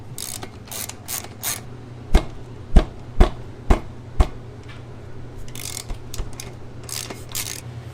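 Bolts are removed from the hub motor of a Super73-Z1 e-bike with a ratchet wrench, a close series of crisp clicks and five sharp metallic pawl snaps in quick succession, then more ratcheting, with no talk.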